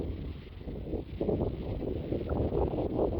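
Wind blowing through a forest on a hill above the sea, a steady rushing roar with gusts and rustling, buffeting the microphone close up throughout, with no talking.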